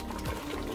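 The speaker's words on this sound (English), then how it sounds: "let me just add more water." Water poured into a cooking pot of soup: a faint, steady pour and trickle with gurgling, heard alone for under a second.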